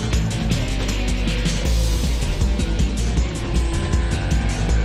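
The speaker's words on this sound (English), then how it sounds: "it's the engine from the Z4 GT3 car tossed into that E46 M3" A loud BMW E46 M3 race car fitted with the Z4 GT3 engine roars close by, revving hard with rapid gear changes and a sustained, aggressive growl.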